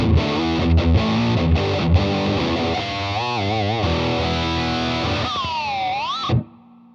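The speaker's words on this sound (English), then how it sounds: "this is a super badass distortion from NXR" Electric guitar on a Reverend bridge pickup driven through a high-gain NXR distortion pedal, loud sustained chords then bending, warbling notes with heavy saturation, ending abruptly in a brief noisy hiss.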